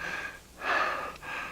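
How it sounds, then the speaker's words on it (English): A man pants heavily in a 1970s audio drama of The Time Machine, with a few loud, breathy gasps at close range, one longer heave standing out in the middle. "I stood, panting heavily"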